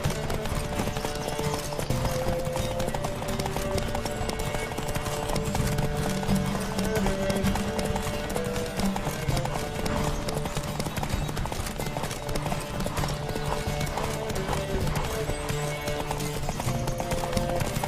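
A horse gallops at speed in a race in The Witcher 3, its hoofbeats a steady, continuous clatter throughout, with music and occasional voices mixed in.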